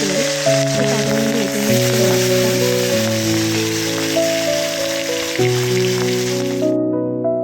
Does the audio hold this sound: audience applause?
no